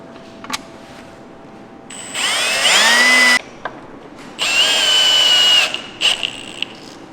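A power drill or driver threads bolts during an engine build, two loud sustained whirring runs of about a second and a half each, rising in pitch as they spin up. Short clicks and taps are heard between the runs, close up and with no talking.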